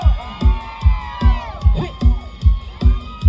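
A crowd cheers and whoops in loud, rhythmic bursts at a Thai wedding dowry procession, shouts rising and falling in waves against a steady pulsing backing.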